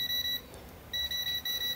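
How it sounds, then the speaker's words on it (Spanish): An electrical tester emits a high-pitched electronic beep that sounds steadily, cuts out briefly, then returns in pulsing tones, loud and close. "Van a oír un pitido de nuestro probador en la parte del medio."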